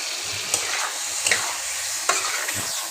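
Masala for a light Bengali egg curry with yogurt sautés in oil in a pan, giving a continuous hissing sizzle and a few soft spatula scrapes, close by with no talking.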